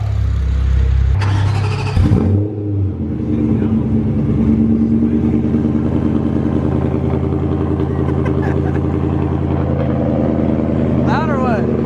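Close, loud engine revving from a BMW M3 after a transmission fix, a sharp rev burst early on, then a steady throaty idle-to-rev drone with people talking throughout.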